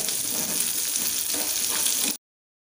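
Fish frying in hot oil in a pan for a pepper dry, a dense, steady crackling sizzle that runs loud and close, then stops abruptly.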